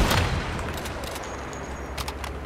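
Rapid bursts of gunfire aimed at a giant spider boss in the survival shooter Once Human, loud close shots in quick succession over a steady rumbling background.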